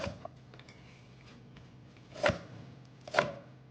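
A knife chops a pile of taro (alu) leaves on a board, two sharp, close thuds a second apart standing out over a faint, steady background with no talking.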